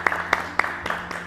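A few separate hand claps ring out in a quiet room during a French-language interview, four or five spaced beats of sparse applause over a faint steady hum.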